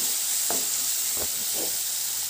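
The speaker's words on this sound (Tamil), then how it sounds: "இப்போது நம்ம நல்லா வதக்கிக்கலாம்" Ground masala paste sautéing in a pan for a lunchbox rice dish gives a steady, bright sizzle throughout, broken by three short scraping stirs of the spoon.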